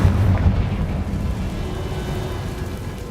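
A Confringo blasting spell from a video game, heard as a loud explosive burst that rolls into a rumbling, crackling decay.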